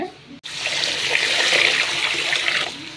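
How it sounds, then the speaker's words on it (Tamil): Water is poured over soaked urad dal and rice to wash them. A steady, close splashing rush starts after a brief pause and lasts about two seconds, then tapers off. "இதை தண்ணி ஊற்றி நல்லா ரெண்டு மூணு தடவை கழுவிட்டு"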